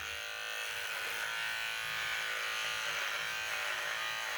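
An electric beard trimmer cuts through a full one-year-old beard, a steady close buzz that runs unbroken with a slight wavering texture as it moves through the hair.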